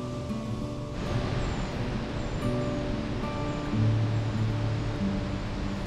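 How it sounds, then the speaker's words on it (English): A waterfall in Yosemite National Park, heard as a steady broadband rush of falling water that stays loud and continuous throughout, with no voices over it. "There's a waterfall."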